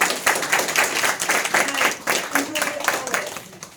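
An audience claps in sustained applause for a candidate at a Wisconsin political campaign event, a dense steady patter of many hands under faint speech.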